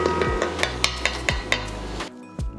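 Minced garlic and vegetables cooking in a pot for chicken and sausage jambalaya, with a spoon repeatedly knocking and scraping against the pot over a low simmering background, close and fairly loud.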